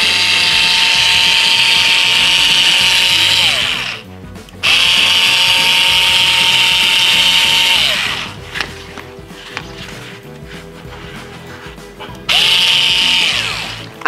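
Bosch electric cutter slicing through crepla foam rubber, a steady high-pitched motor whine in three bursts, running about four seconds, then a gap, then roughly three and a half seconds, then a rougher stretch with a shifting, strained tone, then a final short burst, all close and loud.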